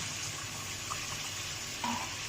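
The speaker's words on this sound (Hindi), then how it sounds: "अब हम इसमें डाल देंगे 1 कप पानी" A cup of water is poured onto pan-fried chicken pieces while cooking chicken Balochi tikka, giving a steady close hiss and sizzle with a couple of brief splashy bursts and no talking.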